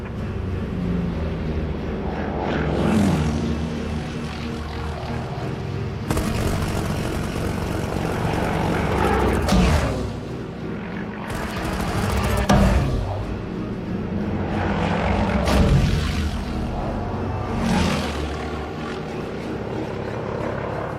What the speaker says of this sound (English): a World War II-style aerial dogfight, with Spitfires flying through the clouds, Messerschmitt fighters diving in from above